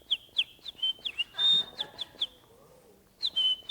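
A person imitates a bird call with a voice, giving a run of quick, high whistled chirps. After a short pause a longer whistled note follows, then a final burst of chirps. The calls sound fairly close and clear, with no other talk.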